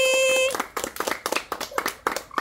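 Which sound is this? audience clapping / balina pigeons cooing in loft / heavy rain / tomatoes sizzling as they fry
audience clapping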